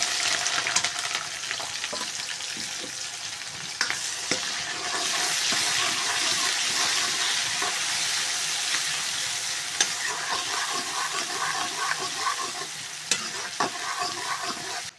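Onion added to hot oil crackles and hisses in a pan, a dense, steady close sizzle with a few louder bursts and stirring scrapes throughout, no voices.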